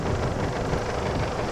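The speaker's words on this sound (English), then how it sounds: "A little bit windy now as we go climb up" Steady, loud wind buffets the microphone aboard a canal boat climbing a flight of locks on the Oxford Canal in Oxfordshire countryside, a dense continuous rumble with no voices.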